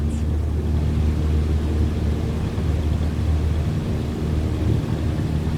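A light aircraft engine at full power in Microsoft Flight Simulator during a take-off roll, a steady loud droning roar that holds unbroken throughout with no speech.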